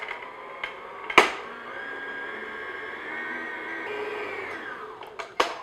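An electric mixer runs at low speed, working flour into cake batter for a cherry almond coffee cake, with a steady close whir between sharp clicks as it starts and stops.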